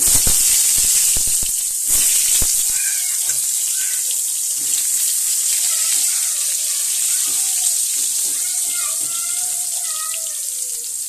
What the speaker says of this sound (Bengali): ভাতটা এখানে ফুটছে